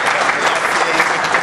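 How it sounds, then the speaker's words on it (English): An indoor audience at a county business roundtable anniversary event applauds the Lieutenant Governor with loud, steady, dense clapping that fills the whole moment. "Round of applause for Lieutenant Governor."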